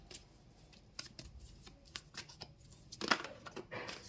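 Tarot cards being shuffled and drawn during a reading: soft, close papery flicks and riffles in short irregular bursts, with one sharper snap near the end, quiet and with no talking.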